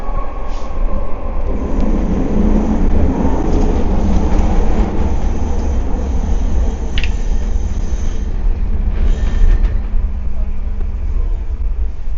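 Expo Line SkyTrain pulling into Waterfront station in Vancouver, a loud steady rumble of the rail car with rising and falling whine and brief squeals, no voices.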